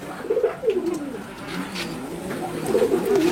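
Nildumba high-flyer pigeons coo in repeated low throaty rolls, close and fairly clear against a soft background hum.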